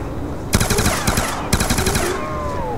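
A weapon firing in Call of Duty: Black Ops 2, two loud, rapid automatic bursts close up, each about a second long, with a quieter tail of game sounds after.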